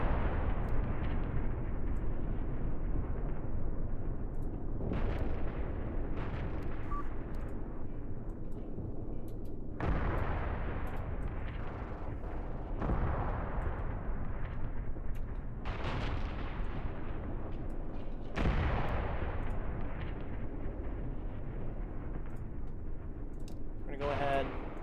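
Gunfire and artillery exchange in the Graviteam Tactics war game, repeated booming blasts and rumbling fire recurring every few seconds at steady loudness, with someone talking over the battle.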